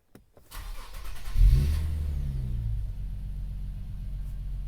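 An Infiniti Q50 engine cranks briefly and catches, surging to a loud rev before settling into a steady, rumbling idle close by.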